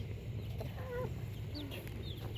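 Rhode Island Red chicks, almost four weeks old and outdoors for the first time, give a few soft, high chirping clucks over a steady low background rumble.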